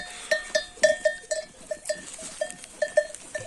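Repeated bright clanking bell tones ring out in an irregular rhythm from bells on grazing sheep, with soft rustling and movement around them.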